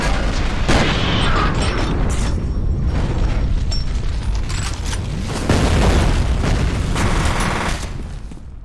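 A heavy grenade explosion in the F.E.A.R. shooter game, a loud booming blast with rumbling debris and mechanical clatter, followed by another strong surge of noise.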